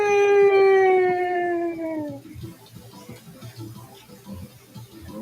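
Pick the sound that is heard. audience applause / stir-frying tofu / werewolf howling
werewolf howling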